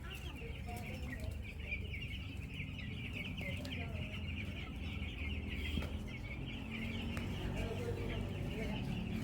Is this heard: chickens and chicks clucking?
yes